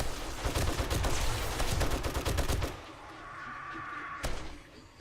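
Rapid bursts of automatic turret gunfire ripping through zombies in 7 Days to Die, loud and dense for nearly three seconds, then a quieter pause broken by a single sharp shot.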